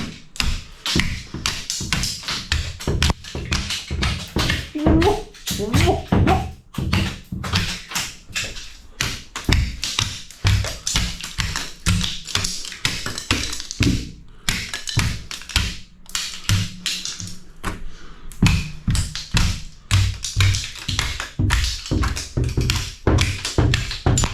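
Old tiles being knocked off an upstairs bathroom wall by a tiler, producing a long, dense stream of loud, close tapping and thudding blows with cracks and clatter of falling pieces, steady throughout with no talking.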